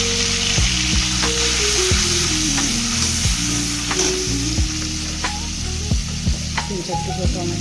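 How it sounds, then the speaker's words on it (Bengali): Ginger and spices frying in a pan with water added, a loud steady sizzle broken by repeated clanks and scrapes of a stirring utensil against the metal. "আদা ভাজা হয়ে গেছে, এখন একটু জল দিয়ে অন্যান্য মশলাগুলো দিয়ে দেবো।"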